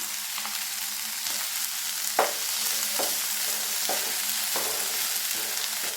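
Mint and coriander leaves sauté for paneer gravy in a hot pan, giving a continuous loud sizzle punctuated by a handful of sharp spatula scrapes and taps at irregular intervals, with no talking.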